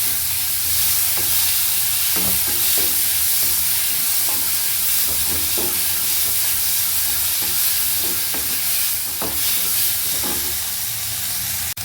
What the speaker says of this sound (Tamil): இப்போ இதை எல்லாத்தையுமே நல்லா வதக்குங்க.